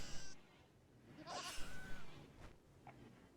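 Goats bleating in the video game RimWorld as they are slaughtered, a few thin, wavering cries rising over a low background, moderately close and without speech.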